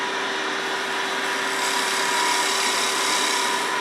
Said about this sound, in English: Switching to the thin parting tool, I'm going to go ahead and cut in about a 1/16 of an inch.